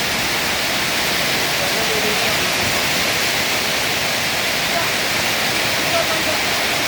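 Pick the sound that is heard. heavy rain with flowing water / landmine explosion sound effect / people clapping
heavy rain with flowing water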